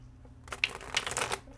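Tarot cards riffle in a quick shuffle, a dense papery flutter of about a second, near and fairly soft over a low room hum.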